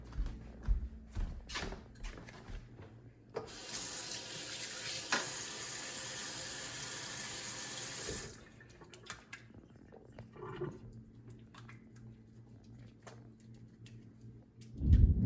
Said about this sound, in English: First step is to wash your hands like usual.